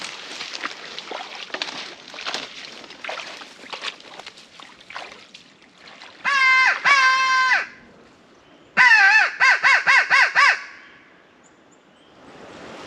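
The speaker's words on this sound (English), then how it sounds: "You sound like a dominant crow." Harsh, repeated caws come in two loud close bursts after a stretch of soft background noise during a public-land turkey hunt; the calls may come from a handheld crow call.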